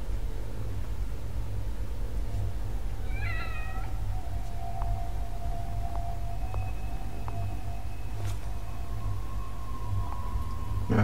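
In The Evil Within horror game, a cat gives a short meow, faint and mid-distance, over a steady hiss of background noise and low droning ambience.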